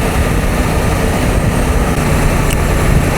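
A Honda Africa Twin motorcycle cruises at about 3,800 rpm near 68–70 mph, its engine a steady, loud, low drone blended with heavy wind rush, with no talk.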